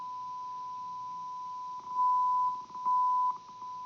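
A thin, steady sine test tone runs through a peaking filter set to attenuate it, faint and constant, then briefly swells louder twice toward the end.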